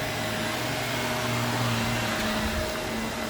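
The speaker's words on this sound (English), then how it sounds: "baby Rowan versus vacuum cleaner" A household vacuum cleaner runs steadily close by, a constant loud whooshing drone with a low motor hum that holds unchanged throughout, with no talking.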